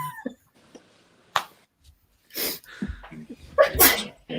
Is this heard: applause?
no